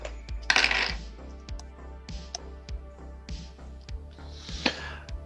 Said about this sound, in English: I am rolling 4 dice